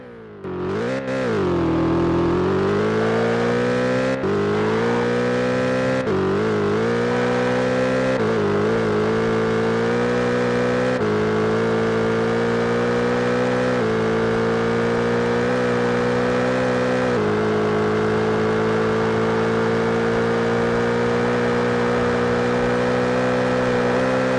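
A BMW M3 GTR in a racing video game accelerates hard toward top speed, its engine note climbing through several gear changes, each shift a brief dip before the loud, steady whine builds again, with no talk.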